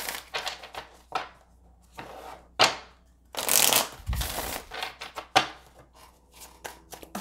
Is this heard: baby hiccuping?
no